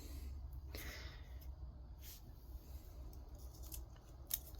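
Small pruning scissors snip several times while trimming growth on a gardenia bonsai, crisp close clicks that fall irregularly over a low background rumble.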